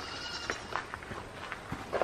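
Several goats bleat in short, overlapping calls, fairly faint and spread across a couple of seconds against quiet outdoor background.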